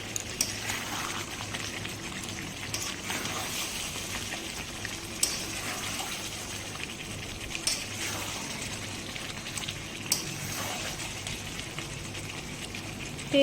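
Meat being browned in oil in a pot for a Bengali curry, a steady broadband sizzle and bubbling running throughout at close range, with faint clinks and no talk.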